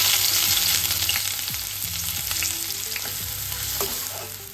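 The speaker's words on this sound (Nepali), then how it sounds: "कराईमा तेल तताउने र प्याज फ्राई गर्ने।" Onions frying in hot oil in a wok (kadai), a loud, close, continuous crackling sizzle with stirring scrapes, easing slightly toward the end; no voices.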